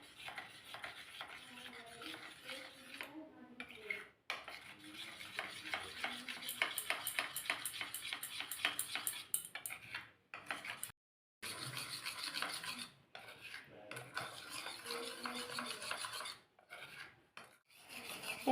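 A spoon stirring and scraping a colored batter mixture in a bowl for patishapta, a steady rapid clinking and rasping that continues at close range with only short pauses.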